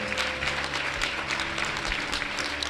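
A church congregation breaks into sustained applause, a dense, steady wash of many hands clapping at even loudness throughout, with no pause.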